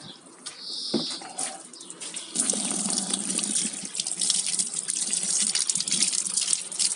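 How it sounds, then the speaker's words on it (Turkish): A kitchen tap runs steadily over freshly picked apricots from a young backyard tree, a close, continuous splashing gush that swells as the fruit is rinsed under the stream. "Önce bir yıkayalım tabii ki."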